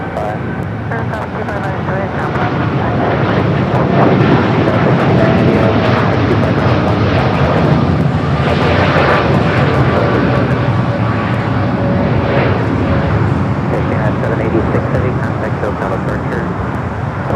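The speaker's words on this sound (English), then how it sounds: "We do have a 777 freighter heading to Miami, flight 5382." Boeing 777 freighter jet engines at LAX, a steady loud broadband roar that holds for the whole stretch, with airport radio chatter and voices running over it.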